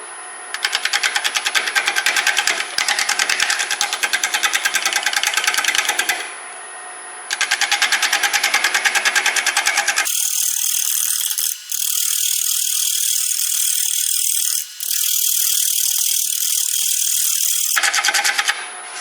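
A wood lathe spins a badly out-of-balance walnut natural-edge crotch bowl blank at around 583 RPM, making a fast, loud rhythmic clattering that stops and starts in several runs with short quieter breaks; no voices.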